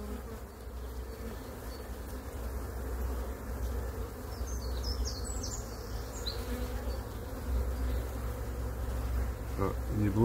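Honeybees buzz loudly and continuously over an opened beehive as frames of brood and pollen are lifted out, a close, dense drone that swells slightly toward the end.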